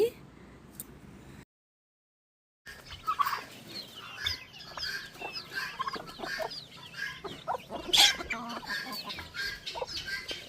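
Native and farm hens kept together cluck in scattered, faint bursts. A brief silent gap comes early, then irregular clucks and calls continue nearby.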